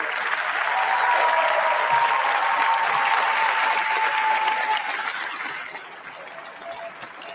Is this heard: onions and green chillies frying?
no